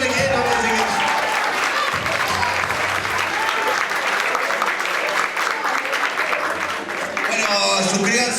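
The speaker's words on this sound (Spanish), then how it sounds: "Fuerte el aplauso." A studio audience at a Spanish-language TV variety programme applauds loudly and steadily for the whole stretch, a dense wall of clapping with faint voices mixed in.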